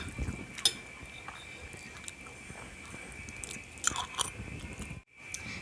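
Child eating rice with fried egg, soft close chewing and bites with a few sharper clicks of a utensil, fairly quiet.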